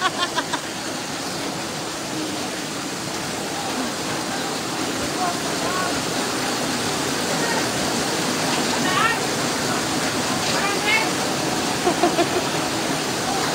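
Floodwater rushing in a loud, steady roar that fills the whole scene without letup, with people talking faintly in the background.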